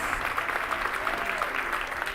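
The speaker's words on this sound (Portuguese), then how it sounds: "Você pode dar um aplauso ao Senhor?" A church congregation applauding the Lord, a sustained wash of many hands clapping together, moderately loud and even throughout with no talk over it.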